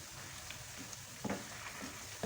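Mustard greens dropped into a pan of frying ginger and garlic, a soft steady sizzle with a few brief louder crackles and rustles as the leaves go in.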